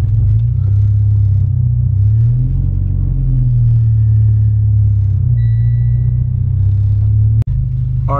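A Mitsubishi Evo's engine rumbles loud and close from inside the moving car, its steady low drone swelling and easing as it drives, with a sharp knock near the end.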